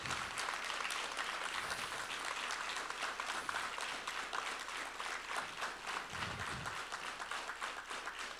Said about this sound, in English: I think they need a good applause